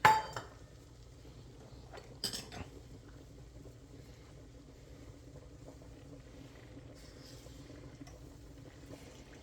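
Three cups of milk poured into a pan of white gravy for chicken fried cubed steak, opening with a clank of cookware and a sharp clatter partway through, then a steady, soft rushing and bubbling that carries on evenly to the end, with no talking.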